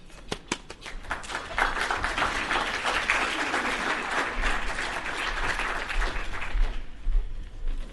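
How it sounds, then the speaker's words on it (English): An indoor audience breaks into sustained applause for a championship winner, a few scattered claps at first building into a dense, even round of clapping that holds for several seconds before tapering off. "That's a pretty good round of applause."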